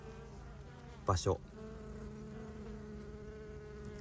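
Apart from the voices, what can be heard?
honeybee workers buzzing at hive entrance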